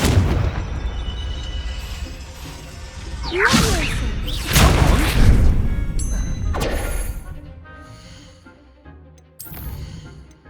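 Confringo fire spell cast in the Hogwarts Legacy video game, sharp whooshes followed by loud crashing blasts around the middle, then fading rumble and smaller hits, no speech.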